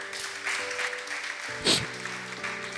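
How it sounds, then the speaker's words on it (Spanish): A short burst of applause and clapping from a church congregation, with music continuing underneath and one sharp louder clap standing out midway. "Dale un aplauso a Jesús."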